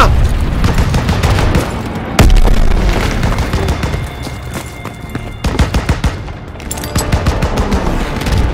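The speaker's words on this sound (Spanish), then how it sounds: "¡Lanzó una granada!" In Call of Duty WWII, a grenade explodes loudly amid dense gunfire, with booms and rattling automatic bursts in a chaotic battle scene and sharp blasts breaking through repeatedly.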